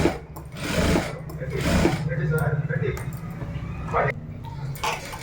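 A sewing machine stitches around a blouse neck in steady rapid bursts, pausing and restarting between runs of stitching, close and moderately loud.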